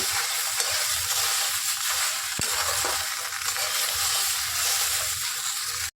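Okra fried in a pan with salt, being stirred: a steady, loud, close sizzle with scraping mixing sounds and one sharp knock partway through.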